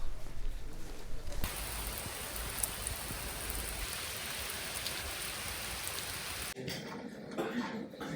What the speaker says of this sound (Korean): 갑자기 비가 막 쏟아져서